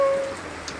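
Steady rain falling on surfaces outdoors on an evening, a soft continuous wash of drops, fairly close and alone with no talk, briefly accompanied by a faint thin tone at the start.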